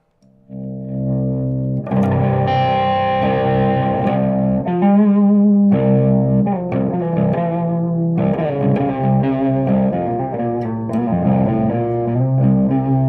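Electric guitar heavily processed through EarthQuaker Devices Barrows and Greer effects pedals, with distorted, shimmering chords strummed and sustained continuously, loud and close, no talking.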